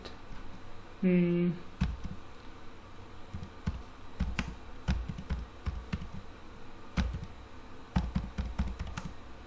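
Keyboard typing while entering text for an HTML footer tutorial, scattered clicks and short bursts of keystrokes across the stretch, close but fairly quiet, with a brief electronic tone near the start.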